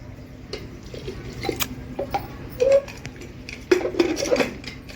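Metal clinks and clatters of a pressure cooker lid being handled and closed, a few sharp knocks over a steady kitchen hum.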